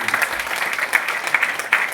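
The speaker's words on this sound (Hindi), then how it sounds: "ताली जोरदार बजा लीजिए" A crowd at a motivational seminar claps loudly and steadily, bright dense applause with a few sharper claps standing out.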